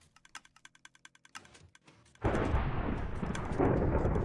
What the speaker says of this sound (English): That thunderstorm is really annoying me.